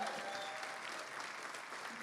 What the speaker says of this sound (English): Just keep the clapping going.